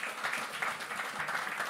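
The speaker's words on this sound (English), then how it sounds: "give a massive round of applause to our guests" A live audience at an All-Ireland football final preview show claps for the guests, a brief, dense patter of applause at moderate distance.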